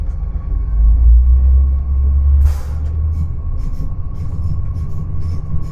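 A TER regional train pulls away, heard from the driver's cab: a heavy low rumble builds and holds steady with a faint constant tone above, a brief hiss of air midway, and no talking.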